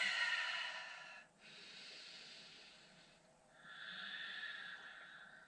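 Slow, soft breaths drawn in and let out while holding an overhead arm extension in a yoga stretch on a mat, each long hissing exhale separated by brief quiet pauses, close and faint with no talking.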